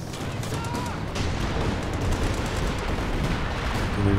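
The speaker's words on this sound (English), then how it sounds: "a lot of artillery coming down" Artillery barrage in the World War II strategy game Company of Heroes 2, a dense, sustained rumble of explosions and gunfire that rolls on without a break, loud and close, with talk faintly underneath.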